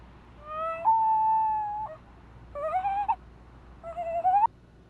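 A boy from Oklahoma imitates the call of a common loon: three drawn-out wailing notes, the first long and steady, the next two shorter and rising, voiced clearly with no other talk.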